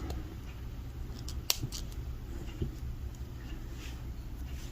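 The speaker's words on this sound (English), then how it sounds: "I'm going to take my cutters, cut off my extra wire" Wire cutters snip off extra beading wire while making jewelry, a single sharp close click standing out against quiet room noise, followed by faint small handling taps.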